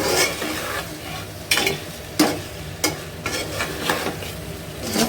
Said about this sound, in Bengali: এখানে এটা মাছটা ভাজা হচ্ছে ভাজতে দিয়েছি এই মাছটা